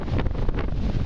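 Gusty wind at the public dock on Skull Creek, part of the Intracoastal Waterway, during Hurricane Ian, buffeting the microphone in a loud, continuous rumbling roar.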